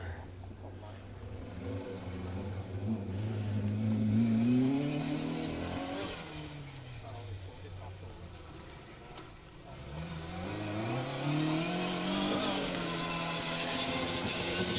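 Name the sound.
Mark II Ford Escort rally car driving past on stage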